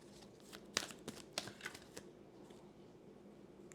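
Tarot cards handled from a deck: a few crisp shuffling snaps and riffles spaced over the first two seconds, close and clear in a quiet room, then near silence.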